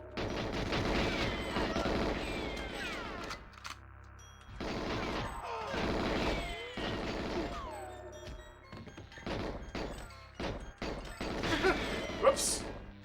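Repeated gunfire bursts and impacts in the Nintendo 64 game GoldenEye 007, loud and dense in clusters with short gaps, mixed with game music and effects, with a voice talking over parts.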